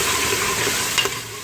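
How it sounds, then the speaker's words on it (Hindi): Finely chopped tomatoes frying in a pan for mash daal, a loud, dense sizzle close up with a brief stir or scrape partway through and no voices. "और अब टमाटरों को करेंगे फ्राई।"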